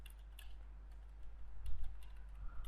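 Soft, irregular key taps on a computer keyboard clatter faintly over a low steady hum, in short bursts rather than a continuous stream.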